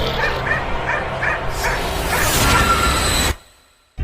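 A dog barks and yips repeatedly in a quick series, near and loud, with whimpering tones and a whoosh, inside a house, ending abruptly in near silence.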